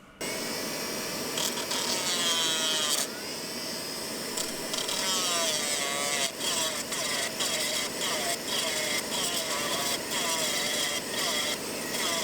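Steady abrasive rubbing on a small wooden puzzle box part held in place by a scrap TIG welding rod, continuous scraping strokes close up with brief pauses, no talk.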